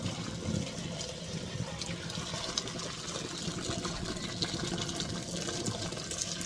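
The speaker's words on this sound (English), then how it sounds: "Just leave a small little crack out so you can pour the water out." Water poured from a spaghetti pot through a small gap left under the lid, a steady gushing splash into a sink that runs continuously and fairly quietly, with no talking.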